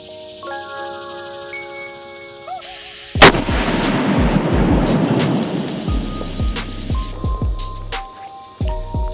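A Magnum Research Desert Eagle .50AE pistol fired at a cantaloupe: a single very loud, close gunshot with a long rumbling, echoing decay, followed by a few fainter knocks.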